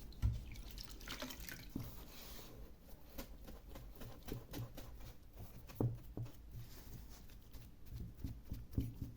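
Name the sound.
water dripping onto a model bridge diorama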